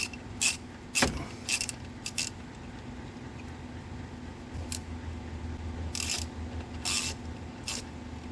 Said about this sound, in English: I'm going to pop those 2 bolts off and we'll swap this filter out